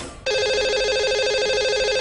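A telephone rings loud and steady after a brief quiet lead-in, a continuous electronic ringing tone as a radio show dials out to its lucky caller.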